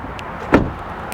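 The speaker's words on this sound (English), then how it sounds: "let's check out the sound of the door on this XC40" The door of a 2021 Volvo XC40 subcompact luxury SUV shuts once with a short, solid, close thud amid quiet surroundings.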